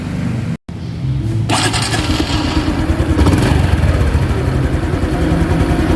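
A 2022 Honda Wave 110i spoke-wheel motorcycle engine turns over after a brief gap and settles into a steady, close, loud idle with no talking.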